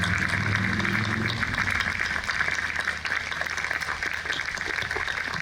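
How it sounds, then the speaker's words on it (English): A crowd at a public library's 150th anniversary celebration applauds library staff and volunteers, a dense and steady wash of clapping lasting throughout at moderate volume. "we should have a round of applause for the library staff of Concord and all the volunteers"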